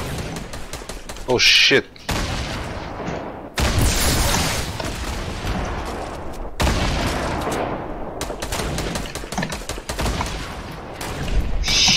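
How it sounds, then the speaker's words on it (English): Bursts of gunfire crackle through a squad firefight in a shooter video game, with several dense volleys broken by short gaps while players talk excitedly over the shooting. "Someone's hitting, shooting from behind?"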